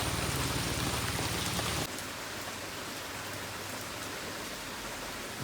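Steady rain falling during the monsoon season in Kerala, a dense hiss of drops on surfaces, louder for the first two seconds and then softer but continuous, with no talk.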